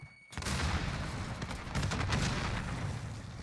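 Video game gunfire keeps up after a brief lull, with sustained rattling shots and booming impacts at moderate loudness. Bursts come close together and continue to the end without a break.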